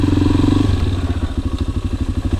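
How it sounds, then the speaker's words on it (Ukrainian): A Suzuki DR 250 enduro motorcycle engine runs close by on a Carpathian trail, a steady mid-pitched throb that shifts into a choppier, pulsing rhythm as the bike rides on. "Гу, це ендуро. Справжня стихія цього мотоцикла."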